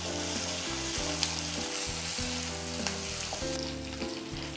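Ginger, garlic and shallots sauté in ghee with a steady, close sizzle and frying crackle, joined by occasional clinks and scrapes of stirring for a chicken biryani.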